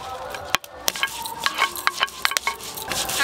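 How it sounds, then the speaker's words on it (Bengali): Chopped onions dropped into hot oil for a Bengali hilsa fish curry, with a dense sizzle, a spoon scraping and stirring the pan in quick, sharp clinks. It is close and fairly loud, with no talk. "তেল ভালো করে গরম হয়ে গেছে, পেঁয়াজ কুচিগুলো দিয়ে দেব"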